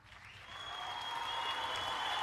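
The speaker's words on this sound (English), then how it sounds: "Oh, they're cheering." Crowd applause and cheering at a podcast taping, swelling from quiet to a steady, moderately loud wash over a couple of seconds, with a sustained tonal hum underneath.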